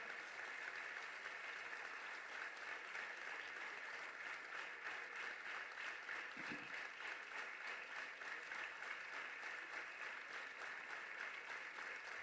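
Applause from an audience at a political rally in Central Chennai, a continuous, even patter of many hands that sounds somewhat distant and faint, steady throughout with no voices over it.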